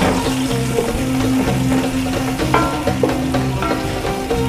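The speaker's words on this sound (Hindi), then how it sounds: "ये हमारा प्याज फ्राई हो रहा है हल्का हल्का सा।" Onions frying lightly in about half a cup of oil for kari pakora, a steady, dense sizzle and crackle that continues without pause over quiet background music.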